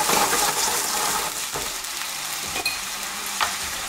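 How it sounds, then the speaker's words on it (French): Red wine poured into a hot pan to deglaze for oeuf meurette sauce gives a loud hiss that settles into a steady bubbling sizzle, with a few sharp clinks and scrapes. "On déglace. Allez, on fait bien cuire avec ce vin rouge."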